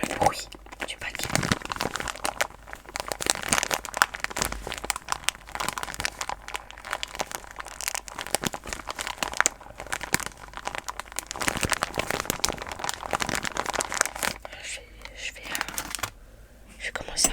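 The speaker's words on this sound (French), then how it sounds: "Parce que j'aime bien le bruit du paquet." Up close, a plastic packet of cotton swabs is crinkled and handled continuously, a dense crackly rustle that barely pauses, with quiet whispering underneath.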